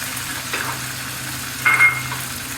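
Onion paste fries in a hot pan for a chicken roast, a low, steady sizzle with a brief louder burst midway, close and alone without talk.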